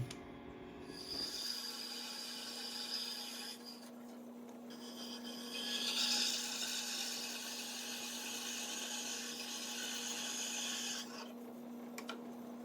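Small metal piece being cut for an engine ignition mount, a steady rasping, grinding hum from the cutting tool running continuously at close range with a brief break and resumption.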